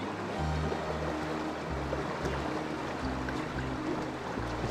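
A Montana river flows steadily outdoors, a dense, continuous wash of rushing water heard close and evenly loud throughout, with no voices.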